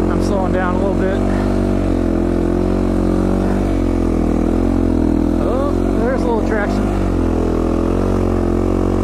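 A dirt bike engine runs loud and steady throughout while riding on snow in Idaho, its drone rising and easing as the rider throttles, with someone talking over it.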